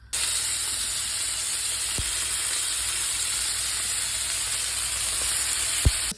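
Meat searing in olive oil in a frying pan, a loud continuous sizzle and hiss held close throughout, with two brief sharp knocks, one near the start and one near the end, and no talking.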